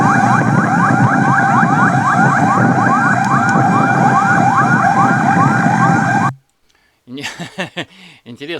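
Fire engine sirens wail loudly and continuously on a street in Jakarta, a rising and falling electronic tone that cuts off abruptly, followed by a brief gap and then a voice speaking.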